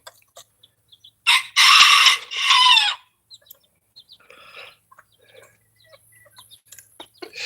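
Chickens nearby, with a hen clucking in a few loud, close bursts around a broody hen sitting on eggs, followed by quieter scattered clucks and pecking.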